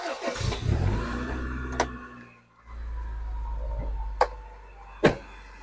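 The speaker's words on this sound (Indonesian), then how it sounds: "Nih, kalau lagi nyalain mesin." A carburetted 1990–91 Honda Accord Maestro engine cranks and catches after a brief quiet, then settles into a steady close idle, punctuated by a few sharp clicks.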